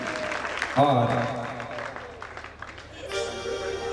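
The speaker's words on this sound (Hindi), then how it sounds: "जोरदार तालियां बजाओ इनके लिए" Audience applause at a Panch Kalyanak temple festival at the Golden Temple in Rohini, a burst of clapping under a voice and music, fading partway through before a tone comes in.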